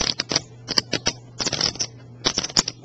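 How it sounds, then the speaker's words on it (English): A stack of 14-gram poker chips is shuffled by hand, giving bursts of quick clicking and clattering in short rhythmic runs separated by brief pauses, close and clear, with no talking. "Shuffle these chips all day long."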